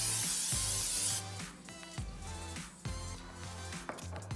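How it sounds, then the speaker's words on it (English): A short burst of olive oil aerosol spray hisses for about a second into an air fryer basket, followed by quieter handling sounds and low background music. "I'm going to spray my basket with some olive oil."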